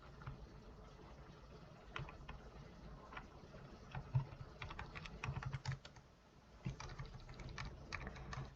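Computer keyboard keys tapped in short irregular bursts, close and fairly quiet, with no talking during a coding session in R.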